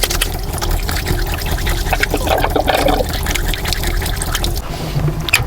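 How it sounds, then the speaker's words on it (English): Tap water running steadily into a sink inside a camper van on a road trip, a continuous pouring splash with clattering dishes, close and fairly loud, cutting off near the end. "I'm gonna wash up here at the sink."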